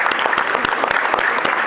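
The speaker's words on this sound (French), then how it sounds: "on va en profiter pour vous applaudir aussi parce que c'est pas évident." Audience applauding dancers at the final of a street dance-call competition, a dense burst of close, loud clapping from a crowd carrying steadily on its own.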